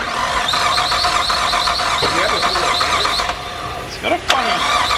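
A Nissan R33 Skyline's RB25DET engine, unrun for years, cranks with a squealing, grinding whine, loud and close, then falters and sputters near the end.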